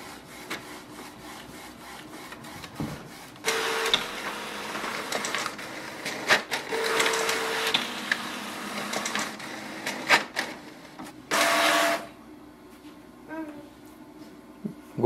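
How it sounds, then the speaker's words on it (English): A Canon Maxify GX1020 inkjet printer runs its alignment page, giving bursts of whirring and grinding carriage and feed noise with mechanical clicks and short pauses between passes, close and moderately loud. "Click on the start printing for alignment."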